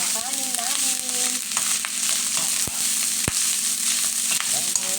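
Cooked rice stir-fried in a pan for Filipino sinangag, a loud continuous sizzle close by with scraping stirs and a couple of sharp knocks of the spatula.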